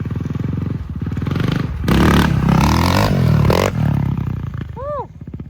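A cheap dirt bike revving hard with its back tire spinning and roosting dirt, giving rough loud engine bursts that rise and drop with clattering and scraping, while a person talks over it.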